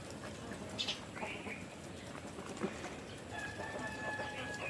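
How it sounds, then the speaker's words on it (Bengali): Chickens cluck and call softly outdoors during rain, a few short calls scattered over the steady patter of rainfall, fairly faint and at a modest distance. "দেখেন আমার হাঁস মুরগি"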